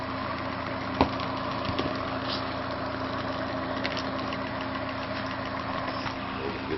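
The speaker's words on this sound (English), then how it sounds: "We'll immediately notice the engine go up, start to go faster." A car engine idles steadily at close range, with a faint rev rise barely showing before it settles back to a constant idle hum; no talking.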